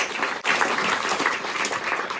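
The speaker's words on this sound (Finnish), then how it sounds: "annetaanko vielä aplodit näille laulajille ja puhujille?" Sustained audience applause at a Finnish mission event in a hall, thanking singers and speakers: dense, steady clapping from a crowd, fairly loud and continuous after a brief dip near the start.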